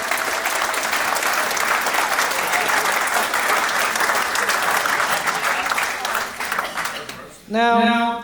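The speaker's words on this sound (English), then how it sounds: "we should all give Natasha a huge round of applause" A large crowd at a wedding reception claps loudly and continuously during the speeches. The applause fades out after about seven seconds, and a voice starts speaking alone at close range.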